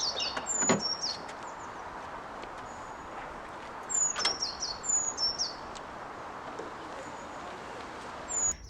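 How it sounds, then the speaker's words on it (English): Small bird tweeting outdoors near a clean 1994 Fiat Punto, a few faint high chirps scattered across the stretch with quiet ambient background between them. "a nice bird tweeting in the background, which is a nice addition"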